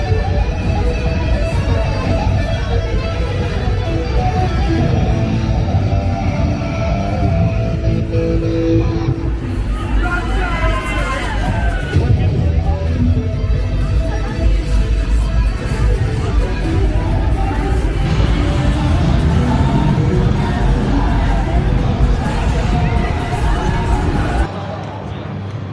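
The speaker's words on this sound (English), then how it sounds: "The casino has a decent crowd for Thursday night" Casino floor crowd at the Rio Las Vegas on a Thursday night in August during Star Trek convention week, a loud continuous wash of babble and background noise with a nearby voice talking.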